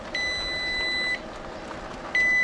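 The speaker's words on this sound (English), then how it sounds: "This is beeping because I think it's set." An electronic appliance beeps after being set: a long steady electronic tone of about a second, a pause, then a second tone starting, close and clear with no talk.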